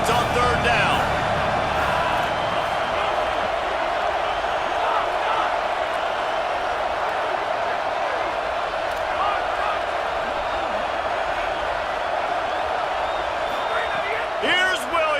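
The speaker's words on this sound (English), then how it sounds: "decibels rising as the crowd gets behind this defense on third down" A stadium crowd roars steadily throughout as an American football defense faces third down, a loud, sustained wash of cheering with scattered whoops, while a commentator talks over it.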